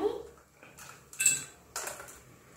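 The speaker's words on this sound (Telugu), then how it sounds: "మనం ఐస్ క్యూబ్స్ వేసుకుందాం." Ice cubes dropped into a glass of milky drink: a few separate clinking, rattling impacts close by, each short, with quiet gaps between.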